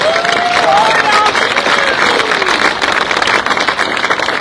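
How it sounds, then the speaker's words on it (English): Crowd applauding in a hall, a steady wash of clapping and some cheers filling the whole stretch, loud and close. "Give yourselves a round of applause."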